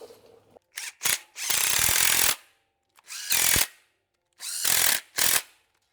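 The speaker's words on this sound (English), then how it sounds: "Let me get my nuts and bolts and we'll tighten that up." Nuts and bolts being tightened on a Chevrolet LT1 engine with a power tool, several separate loud bursts of whirring and rattling, each lasting under a second to about a second, separated by silence.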